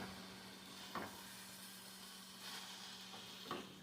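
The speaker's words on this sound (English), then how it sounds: "So what I'm doing right now is just sauteing." Garlicky greens sauté in a pan, giving a soft, steady sizzle with a few brief stirring scrapes and no talk.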